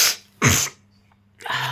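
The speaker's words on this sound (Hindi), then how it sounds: "नाक बंद हो जाता है, छींकें लग जाती हैं।" A single sharp, loud sneeze bursts out close by after a quick intake of breath, followed by a short quiet pause and then a soft rustle of noise.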